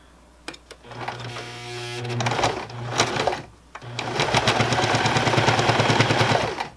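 A treadle sewing machine runs a long stitch through thick flannel in two bursts of rapid, even mechanical chatter, loud and close, separated by a short pause with clicks.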